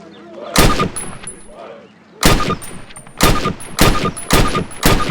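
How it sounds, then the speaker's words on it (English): Rifle in the Call of Duty game fires rounds at a target on a range: loud, sharp single shots, one early, then a run of five evenly spaced cracks, each with a ringing metallic tail. "Approach the fence and fire 6 rounds at your target"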